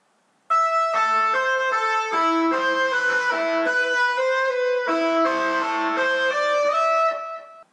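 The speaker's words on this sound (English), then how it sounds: "here's that tapping lick played slow" A clean electric guitar plays a slow tapped melody, clear bright notes stepping up and down steadily, alone with no talking, for several seconds.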